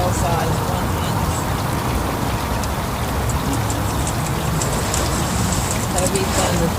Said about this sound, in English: Heavy thunderstorm.